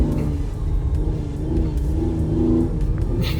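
A 2016 Hyundai Genesis Coupe with an AEM cold air intake accelerates, its engine giving a steady, loud, close rumbling drone that rises slightly in pitch over a few seconds, with no talking.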